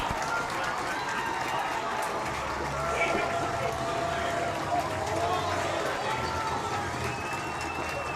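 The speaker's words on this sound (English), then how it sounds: "And listen to that crowd." Crowd noise at a high school football game, Cape Central vs Hillsboro, a steady broad roar of spectators with a commentator talking over it throughout.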